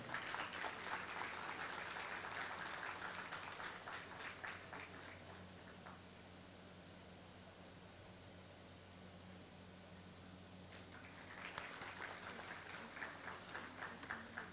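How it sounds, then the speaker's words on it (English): Faint audience applause in a hall at a government medical college convocation, a steady patter that dies down midway over a low hum, then swells again toward the end. "Let's have a big round of applause for him."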